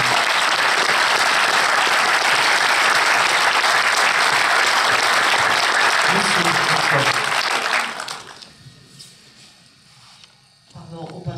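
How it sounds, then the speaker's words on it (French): Loud, sustained applause from a large crowd at a film premiere screening fills most of the clip, then fades out abruptly, leaving quieter room noise. "je crois qu'on peut tous l'applaudir ce soir"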